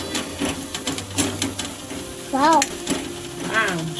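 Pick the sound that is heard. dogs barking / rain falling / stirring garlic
stirring garlic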